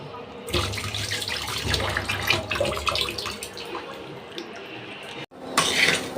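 Rice being washed in water in a home kitchen, splashing and swishing for several seconds, a brief pause, then a louder burst of water near the end.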